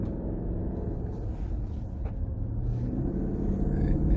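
A Dodge Durango R/T engine accelerates, heard from inside the cabin as a steady deep rumble that slowly swells in loudness, with no voices.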